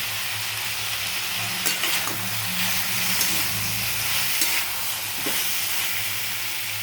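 Steady sizzling of vegetables and chopped ginger frying in a hot pan, with occasional clinks and scrapes of stirring over a low hum.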